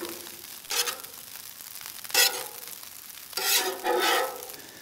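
Cooked eggs being stirred and scraped into fried rice on an outdoor flat-top griddle, with a steady sizzle and three louder bursts of scraping and tossing spaced across the moment.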